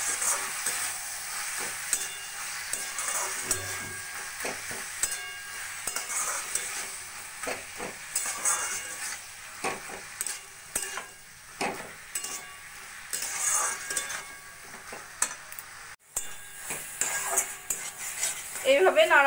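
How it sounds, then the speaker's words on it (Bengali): Boiled flat beans (sim) stirred and fried in a pan for a Bengali sim vorta, with steady sizzling and repeated scraping clinks of a utensil against the pan, close and continuous with no talk. "এবার শিমটাকে আমি ভালো করে বেশ ভাজা ভাজা করে নেব।"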